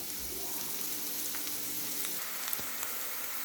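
Pieces sizzle gently in a pan for an egg curry, a continuous soft frying hiss with a few faint clicks of stirring.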